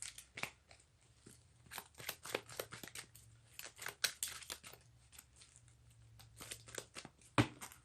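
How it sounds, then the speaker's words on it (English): A deck of cards for a Carentan Causeway tabletop wargame is shuffled, giving a run of close, crisp riffles and snaps that come in bursts over several seconds, with no talk. "we need to shuffle up the German deck"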